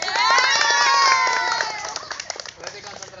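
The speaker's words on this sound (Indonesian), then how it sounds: "Iya, tepuk tangan." Children at an outdoor school sprint lesson burst into loud cheering and shouting, which tapers over a few seconds into scattered claps and voices nearby.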